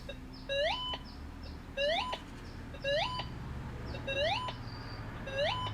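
A Gold Monster 1000 metal detector sounds repeated rising electronic tones over gold and iron targets, five evenly spaced pulses each sweeping upward, clear and close above a low background hum.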